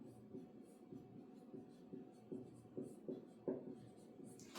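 Faint, steady scratching as a small letter d is handwritten, with soft repeated strokes of pen or chalk at a quiet, close level and no talking.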